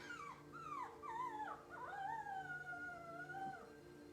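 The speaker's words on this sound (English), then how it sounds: "Got those cute little puppies" Puppies whimpering and whining in drawn-out, wavering high cries that overlap one another, steady and close, with no talking.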